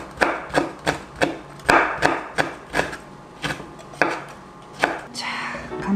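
Cheongyang chili peppers are cut in half with a knife on a cutting board, a series of about a dozen crisp, evenly spaced chopping taps, close and fairly quiet with no talking.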